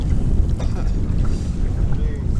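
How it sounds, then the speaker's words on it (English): Wind at a lake buffets the microphone in a loud, continuous low rumble that fills the whole moment, with no voices heard. "This wind is beautiful though."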